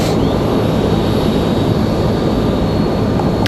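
A Republic Airways 3447 airliner departing Raleigh Durham International toward Washington Dulles, its engine roar steady, loud and close, filling the whole stretch.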